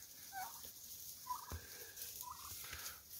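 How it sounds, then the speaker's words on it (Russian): Bursts of turkey gobbling from a bird nearby, several short warbling calls spread across a few seconds over faint outdoor background. "Индюк. Или ты не индюк?"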